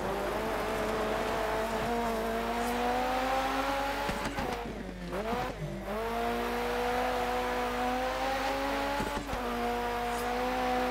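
In the Dirt 3 racing game, a car's engine drones steadily, then dips and surges as the handbrake turn is made. Revving climbs back up afterward, with faint tire noise and no voices.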